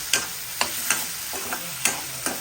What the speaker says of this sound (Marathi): आपली दुधी पहिली फ्राय करून घेते तेलामध्ये